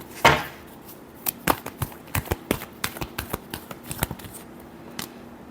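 Tarot cards are shuffled by hand, a sharp riffle at the start followed by a string of crisp slapping and flicking taps at an uneven pace, close and fairly quiet with no talk.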